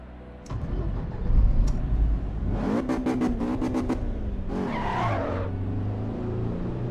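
A racing car in the Assetto Corsa Evolution sim laps the Nordschleife: loud engine roar, quick revving gear changes and screeching tire squeal up close, with no voices.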